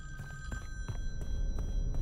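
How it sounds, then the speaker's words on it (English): In the Friday the 13th video game, a telephone bell rings in quick repeated bursts, moderately loud over low background rumble. "the phone... So when you answered, it's going to start ringing again"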